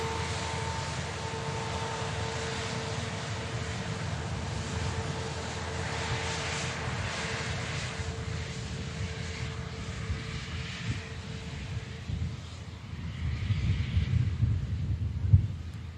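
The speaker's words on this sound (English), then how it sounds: "Loganair Embraer is next aircraft in. Aircraft arriving from Aberdeen." A Loganair Embraer jet arriving from Aberdeen at Manchester Airport produces a steady, fairly distant engine roar with faint tonal whine, swelling louder toward the end as it draws nearer.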